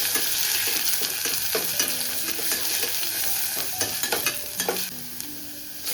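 Masala paste of roasted coconut, garlic, tomato and roasted onion sautéing in a pan, a continuous close sizzle punctuated by frequent scraping stirs of a spoon, with no speech.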